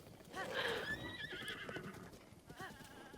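A horse in Breath of the Wild whinnies loudly with a rising, wavering neigh, followed by hoofbeats and a shorter second whinny over faint ambient noise.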